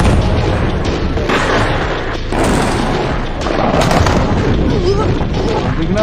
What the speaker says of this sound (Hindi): ये देखें जगह जगह मिसाइल गिर रहे हैं और हर 2 मिनट बाद मिसाइलों की आवाज़ें आ रही हैं।